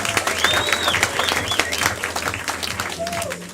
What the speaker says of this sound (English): clap for them one more time, everyone